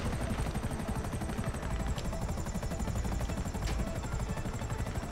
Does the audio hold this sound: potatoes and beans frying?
no